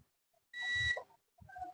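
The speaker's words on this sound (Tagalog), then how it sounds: "Lagay natin sa buzzer sa kanyang continuity." A multimeter's continuity buzzer beeping while an old fuse is tested, two short electronic tones, the first held about half a second and a shorter one after a pause, close and clear with no talk.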